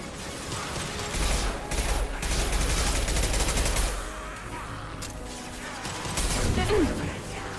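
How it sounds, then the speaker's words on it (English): An impact gun fires in a Mass Effect 2 battle, with dense bursts of booming, crashing weapon blasts and mechanical clatter swelling and fading against a continuous noisy game soundscape. "Firing an impact gun."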